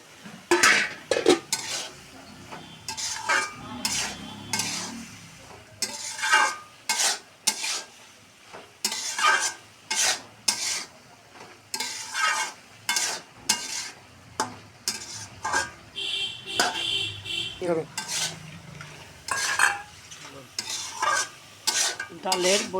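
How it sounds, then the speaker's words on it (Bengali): Prawns stirred into a bottle gourd curry in a pan, a spoon scraping and clanking in repeated bursts over a steady background sizzle, close and fairly loud. "এখন আমি চিংড়ি মাছগুলো দিয়ে দেব।"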